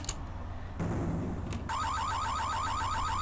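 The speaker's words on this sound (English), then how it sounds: "As I enter the room, the burglar alarm sounds" A burglar alarm goes off in the Tex Murphy: Mean Streets video game, a loud electronic wail that starts after a couple of sharp bursts and settles into a rapid, steady warbling tone.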